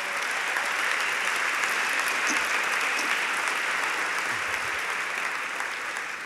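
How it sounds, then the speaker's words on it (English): Audience at a political event in New York City applauds, a sustained, dense clapping from a large crowd that carries on evenly throughout. "Let's give him a round of applause."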